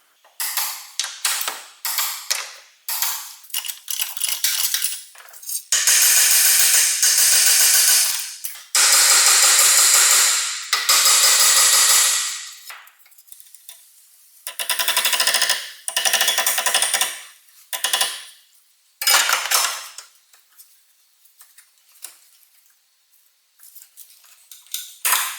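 A shock absorber bolt on a Mazda 3 is tightened to 40 Nm, giving close bursts of metallic ratcheting and clicking in uneven spurts separated by quiet pauses.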